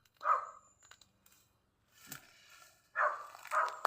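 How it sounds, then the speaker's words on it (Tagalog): A neighbour's dog barks nearby outdoors, giving a few short, loud barks separated by quiet gaps, with one sharp click in between. "may aso kasi din sa kapitbahay"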